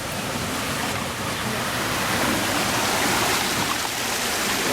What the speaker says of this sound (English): Ahead we have a waterfall, Saga no Taki, which evokes the sound of Mount Cascade as it flows over 3 giant steps representing heaven and earth.